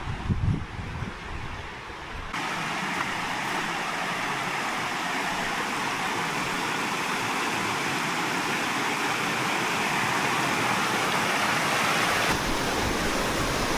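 A river flows beside a walking path near Braco in Perthshire, Scotland, making a steady broadband rush that settles in after a brief rustly start and holds close and even throughout.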